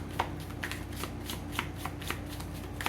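Tarot cards are shuffled in steady, soft riffling bursts with light repeated flicks and taps, close and fairly quiet, with no talking.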